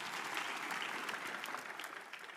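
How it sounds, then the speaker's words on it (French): A congregation applauds at a church service, steady dense clapping throughout at moderate distance, fading slightly toward the end with no voices over it. "Alors applaudissez pour lui à nouveau"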